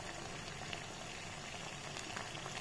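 Tomatoes and cashew nuts fry in butter in a kadai, giving a steady, soft bubbling sizzle that stays even and fairly quiet throughout, with no talk.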